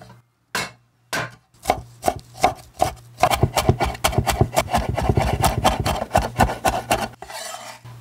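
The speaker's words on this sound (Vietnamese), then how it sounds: "Tiếp theo mình dùng 4 tép tỏi đập dập và băm nhỏ ra." A knife strikes a board as crushed garlic cloves are minced, starting with a few spaced chops and then turning into rapid, loud, rhythmic chopping, with no voices.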